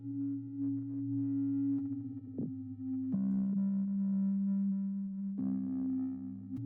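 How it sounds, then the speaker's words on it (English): Smooth, soft synthesizer sine tones hold steady low notes that shift pitch a few times, with a slight warbling, detuned quality. "I usually use sine waves when I want something to feel really just like chilled out"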